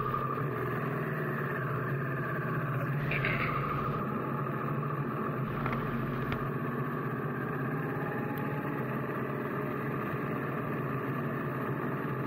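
A Harley-Davidson Sportster S with a 1250cc engine rides along, its steady engine drone and road noise holding continuously throughout with a brief louder rumble midway.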